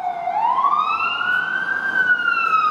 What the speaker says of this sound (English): And I hear a siren.